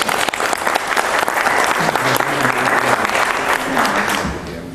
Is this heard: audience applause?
yes